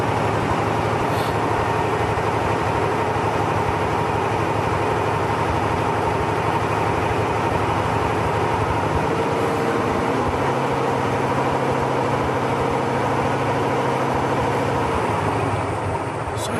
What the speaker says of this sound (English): Then we will turn off the engine.